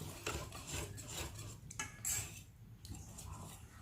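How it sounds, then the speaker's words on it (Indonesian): Coconut milk batter for bandros pancong being stirred in a bowl, with soft scraping and clinking of a utensil against the sides, fairly quiet and continuous with no talking. "sekarang kita tinggal aduk aja sampai rata"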